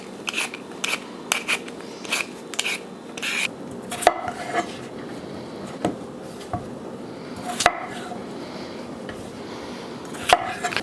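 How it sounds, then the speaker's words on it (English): Repeated scraping and rasping strokes of potatoes being peeled, with sharp chopping knocks of cutting them on a board, steady and close, with no talking. "We're just going to peel them and then cut them a little bit down to size"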